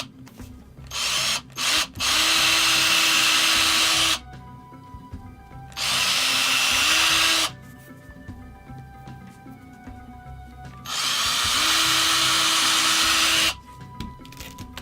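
A small power drill carving into a painted Wind Waker model, three sustained whirring bursts of a few seconds each separated by quiet pauses, loud and close.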